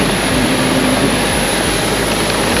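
A loud, steady Batik Air airliner engine roar with a hissing high whine, close and continuous for a few seconds, at Subang Airport on a rainy day.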